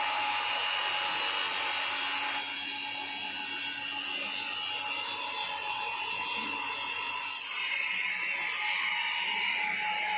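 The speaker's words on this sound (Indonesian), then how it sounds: "kita hidupkan terlebih dahulu vakum" A vacuum pump on a small-scale biodiesel reactor runs with a continuous mechanical drone and hiss that is steady throughout, shifting slightly in tone partway through, with no talking.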